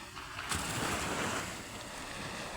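Steady rushing wash of sea waves breaking on the shore at night, with a soft gust of wind noise, fairly faint and continuous.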